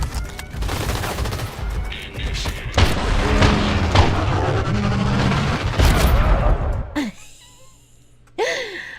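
Dense, chaotic gunfire and explosions in the crime game Crime Boss form a loud, sustained barrage of rapid shots and booms that cuts off abruptly. A voice gasps and speaks briefly afterward.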